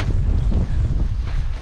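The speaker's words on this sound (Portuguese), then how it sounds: "O vento ficou muito forte agora" Strong wind buffets the microphone outdoors at a kite-flying gathering, a loud continuous low rumble with gusty fluctuations and no talk.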